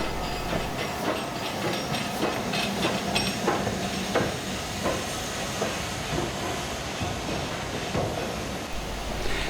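A steam locomotive, LMS 8F 48624, working nearby at a steam gala, loud hissing steam and rhythmic chuffing with clanking wheels, steady throughout.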